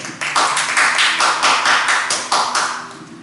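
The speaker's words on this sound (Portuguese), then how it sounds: "Pode aplaudir o Senhor, que merece a honra e toda a glória" A church congregation clapping at the close of a service, a loud, close burst of rhythmic hand claps in uneven waves that fade out toward the end.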